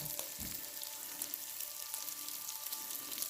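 Butcher Box bacon strips frying in a pan, a steady, fairly quiet crackling sizzle with faint pops running the whole time, no talking.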